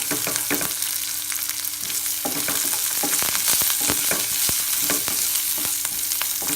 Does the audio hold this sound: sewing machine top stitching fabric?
no